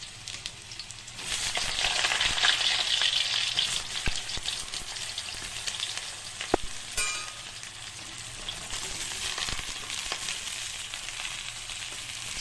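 Loud, dense sizzling as pointed gourd pieces fry in hot mustard oil in a kadai, swelling then settling into a steady crackle with a couple of utensil clicks.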